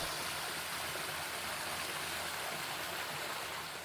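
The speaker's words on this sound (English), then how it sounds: "Listen to the creek, kind of soothes you" A creek flows beside a hiking trail, its steady, unbroken rush of water filling the scene at an even, fairly soft level with no voices.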